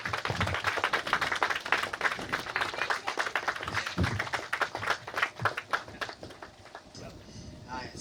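A crowd at an open day in Lukenya claps steadily to welcome a team leader, giving dense, close applause that lasts throughout and slowly thins out, with a voice speaking over it.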